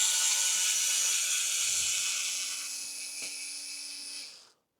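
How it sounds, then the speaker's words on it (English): Electric screwdriver backing out 2mm screws on an RC car, a close, high, thin whirring buzz with a few small clicks, fading out at the end. "I'm going to quickly remove the screws here. 2mm. As I say, I'm using a electric screwdriver"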